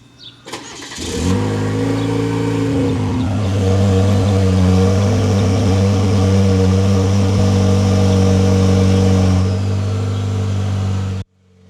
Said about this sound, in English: this thing has a wicked high idle. For the first 15 seconds or so on a cold start, it'll run really fast.